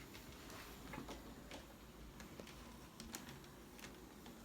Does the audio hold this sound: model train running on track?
yes